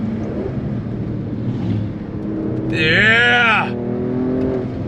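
A V6 in a 2023 Alfa Romeo Stelvio Quadrifoglio SUV drones under acceleration, its pitch sweeping up then dropping sharply as the ZF 8-speed gearbox snaps through a fast shift, with a brief whoop of excitement from an occupant.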